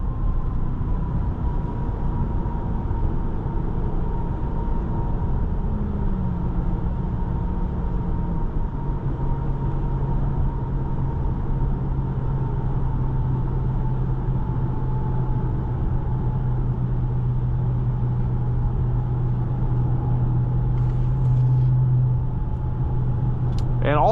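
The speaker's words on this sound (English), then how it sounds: "a Ferrari derived V8 is gonna sound insane" A 2019 Maserati Levante Trofeo with a 590 hp Ferrari-derived V8 drives along, its engine a steady low drone with a gear change partway through and a brief rise near the end, heard from inside the cabin.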